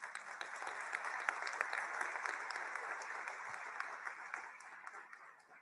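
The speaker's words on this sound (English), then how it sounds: "I think we should give them an applause." Conference audience applauding, a steady, even wash of many hands clapping at a moderate distance, fairly quiet overall and tapering slightly toward the end, with no voices over it.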